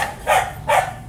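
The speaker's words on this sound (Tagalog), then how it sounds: "Ayan ang aso namin, maingay." A dog barks twice at close range, two short loud woofs about half a second apart, over a low background hum.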